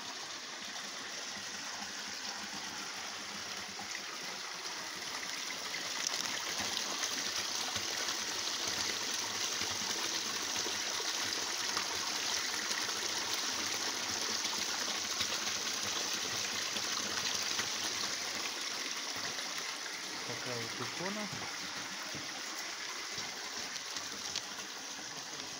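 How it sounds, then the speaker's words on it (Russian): Holy spring water flowing steadily at a small chapel in a winter park in Kislovodsk, a continuous broad rushing splash heard close and alone without talk. "Здесь можно набрать освященную воду из источника"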